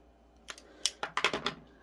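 Quilt fabric is cut across a corner along a ruler: a quiet pause, then a quick series of six or seven crisp, close cutting snips and scrapes in under two seconds, with no talking.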